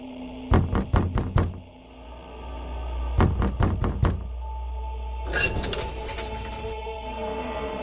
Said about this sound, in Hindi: मैंने दरवाजा खटखटाया।